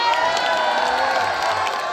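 Loud audience applause and cheering at a live Hindi stage event, a dense continuous wash of clapping and shouts filling the whole moment without a break.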